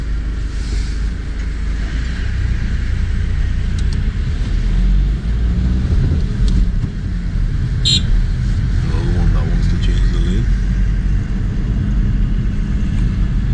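A learner's car drives in second gear through a one-way system into a town-centre 20 zone during a lesson, giving a steady low engine and road rumble throughout, with voices talking over it.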